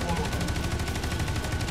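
Rapid automatic gunfire from a video game weapon, dense steady bursts firing continuously at close range and fairly loud.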